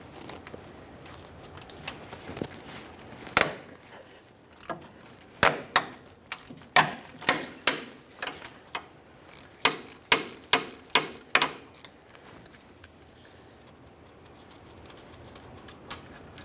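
A ratchet wrench loosens the wheel hub mounting bolts on a 2007-2013 Acura MDX during a rear hub job, giving sharp, close clicking bursts in quick irregular runs with short pauses between them.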